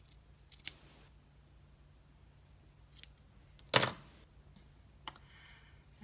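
Scissors trim a small yarn pom-pom in a few separate sharp snips, one louder crisp cut in the middle, set against an otherwise quiet background.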